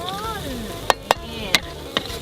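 Crispy pork stir-fried for a basil pork dish, with a steady close sizzle broken by four sharp spatula clacks against the pan.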